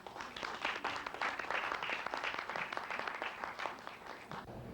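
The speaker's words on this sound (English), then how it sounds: "let's give the King Island dancers a great round of applause" Audience applause for King Island dancers, many hands clapping at a steady, fairly even pace that swells slightly and continues for several seconds, heard at a moderate distance.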